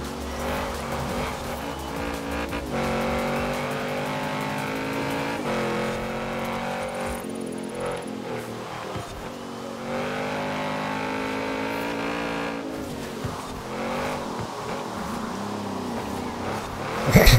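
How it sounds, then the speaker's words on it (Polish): An Audi RS7 engine in Forza Horizon 4 revs hard through the gears, its note climbing and dropping on each shift, with tire squeal and skids on narrow British roads, loud and close throughout. "Ten silnik jest taki mocny, że nawet zbiera od niskich obrotów ładnie."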